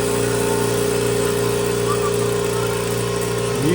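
A Kobalt 26 gallon air compressor runs with a steady, fairly quiet motor hum and pump drone at a constant level, heard from about seven feet away, with a brief rising tone near the end.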